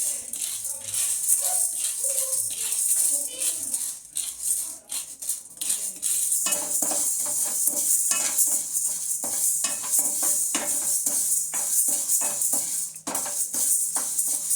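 Lentils dry-roasting on a low flame in a pan for homemade bisibele bhath and vangi bhath spice powder, with a steady dry sizzle and repeated scraping stirs of a spoon, close and continuous.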